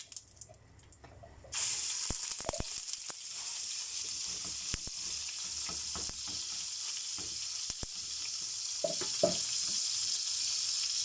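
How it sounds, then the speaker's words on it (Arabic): Minced meat dropped into a pan with little added fat, bursting into a loud, steady hiss of frying that continues throughout, dotted with clicks and scrapes of stirring, no talk. "انا هدي تشويحه كده ايه للحمه المفرومه دي مع نفسها كده قبل ما انزل عليها بالبصل"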